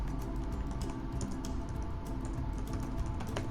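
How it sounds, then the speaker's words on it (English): Steady typing on a computer keyboard, a dense run of close key clicks over a low, constant background hum. "You can type something here."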